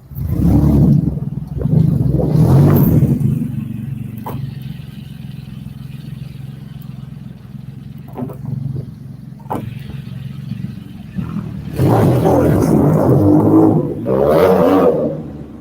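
ATVs roaring along a Philadelphia city street, engines loud and revving as they pass close, easing off in the middle before another loud pass near the end.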